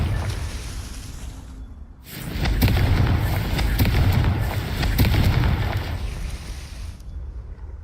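A Confringo fire spell from Hogwarts Legacy erupts into a loud, sustained fiery blast that roars for several seconds with crackling bursts before cutting off.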